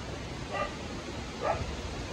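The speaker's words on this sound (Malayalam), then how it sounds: "ഈ പട്ടികൾ കൂടെ ഉള്ളതുകൊണ്ട് പാവം ഇവിടെ കഴിയുന്നു." A dog inside a crumbling house near Aruvikuthu waterfall gives two faint, short barks at a distance over a steady background hiss.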